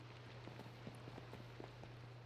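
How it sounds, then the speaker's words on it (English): Steady rain falls in a video game, a constant hiss of drops spread evenly across the clip with faint scattered taps, and nobody talks. "Oh, it's raining."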